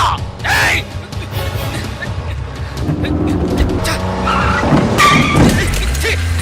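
A car speeds through a movie chase scene, its engine roaring and tires squealing over a continuous loud rumble, while people talk excitedly over the noise.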